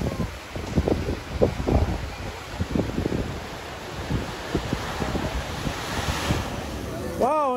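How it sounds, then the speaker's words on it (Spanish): Pacific surf surging against the rocks at La Bufadora blowhole in Baja California, Mexico, with a series of rolling crashes and roaring wash, heavy wind buffeting the microphone, and a fading rush of water near the end. "aúlla el mar cuando pega con las rocas y respira como aire y agua aproximadamente cada minuto"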